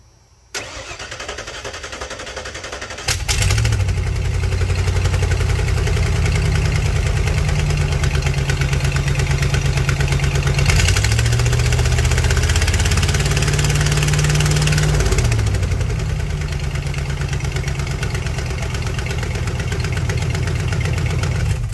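A 1994 Club Car Carryall utility vehicle engine cranks briefly, catches and fires up, then settles into a steady, loud, close idle that holds with slight rises and dips in revs and no talking.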